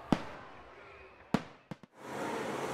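A fireworks display at an evening winter event in Plymouth, Minnesota: two loud, sharp bangs with ringing decay, two quicker pops, then a sustained crackling rumble, all fairly close with no talking.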